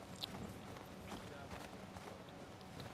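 Horse hooves clip-clop at a walking pace in The Last of Us Part II video game, a soft, steady run of faint hoof strikes under a quiet background.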